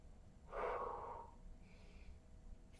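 A single deep breath during a Pilates core exercise on a mat: a close, audible breathy exhale lasting about a second, then quiet room tone with a faint softer breath afterward.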